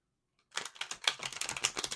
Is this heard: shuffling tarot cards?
yes